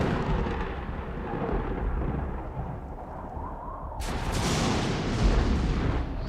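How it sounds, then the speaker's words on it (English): Thunder from a lightning strike, a steady deep rumble that swells into a sharper, brighter crack partway through, loud and filling the space with no voices. "lightning strikes down, engulfing her and Asmodeus"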